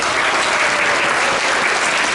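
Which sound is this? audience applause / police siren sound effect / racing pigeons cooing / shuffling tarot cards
audience applause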